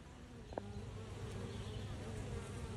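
Honeybees buzz at feeding time in a steady, faint, continuous drone, with a few individual bees passing closer now and then.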